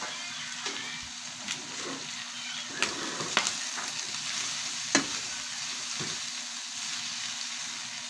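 Turkey pieces fry in an uncovered pan, giving a steady close sizzle broken by several sharp spattering pops and crackles of hot oil.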